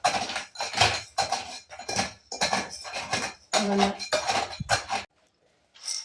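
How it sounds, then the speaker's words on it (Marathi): A steel bowl crushes moong dal vadis in a series of about eight sharp metallic knocks and clinks in quick succession. After a short silence, one more clink follows. "मुगाच्या वड्या मोठ्या राहतात ना, तर ह्या वाटीने असं थोडंसं बारीक करून घ्यायचं."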